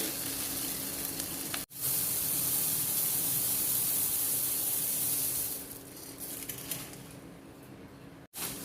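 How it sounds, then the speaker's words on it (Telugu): Puffed rice pours into a mixture in a pan, giving a steady crackling, sizzling hiss for several seconds that then thins out and fades, with no talking over it. "ఇలా అంతా బాగా మిక్స్ అయిన తర్వాత ఇలా బొరుగుల్ని యాడ్ చేసుకోవాలి"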